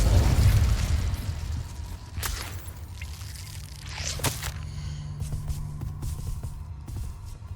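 Incendio fire spell bursting in Hogwarts Legacy, a deep rumbling whoosh at the start followed by a couple of sharp crackling flares and a lingering low roar, with no talking.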